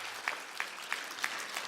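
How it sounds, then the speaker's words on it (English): Audience at a 2018 health training centre graduation ceremony clapping in steady applause, moderately distant and fairly soft, with a few louder individual claps rising out of the crowd noise. "Let's give our strong supporters of the founders a round of applause."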